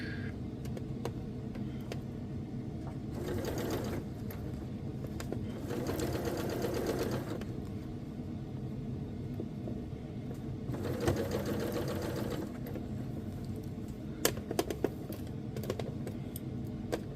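A domestic sewing machine stitching a lounge wear top runs in two steady bursts of rapid stitching, with quieter pauses and light handling clicks between them, close and fairly quiet.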